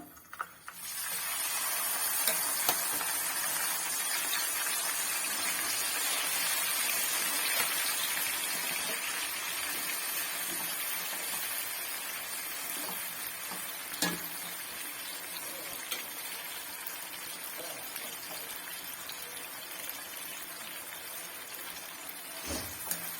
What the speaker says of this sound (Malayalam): ഈ മാങ്ങ നമുക്കിട്ടൊന്ന് വറുത്ത് കോരാം. നല്ലെണ്ണയ്ക്കകത്ത് അമ്മ ഇടുന്നത്.